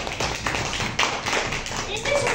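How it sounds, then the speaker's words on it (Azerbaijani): A class of second-grade children claps together in a classroom, a dense, close burst of rapid overlapping claps that carries on steadily for a couple of seconds. "Alqışlayaq bir deyir sizi."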